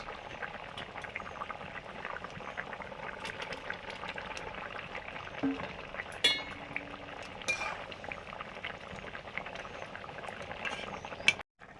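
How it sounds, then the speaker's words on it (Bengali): Spicy curry with nearly cooked potatoes bubbling in a pot as fish goes in, a soft steady simmer broken by a few clinks and splashes, quiet and close with no speech. "ঝাল ফুটে গেছে, আলু প্রায় সেদ্ধ হয়ে এসছে, এখন দিয়ে দেবো মাছ"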